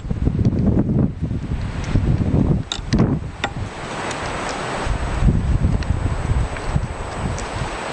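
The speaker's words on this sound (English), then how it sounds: "wind's blowing" Wind gusting steadily across a microphone outdoors in deep snow at a shooting spot, a continuous low roaring rumble with a few brief clicks and knocks, no talking.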